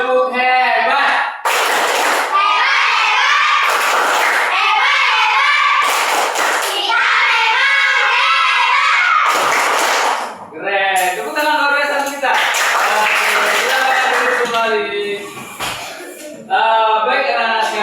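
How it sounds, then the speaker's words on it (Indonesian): A group of children performs the Indonesian "tepuk hebat" clapping chant while standing in a classroom, with loud rhythmic bursts of clapping and slaps in time with their chanting voices, continuing steadily over the whole stretch. "kita bisa nggak untuk melakukan tepuk hebat?"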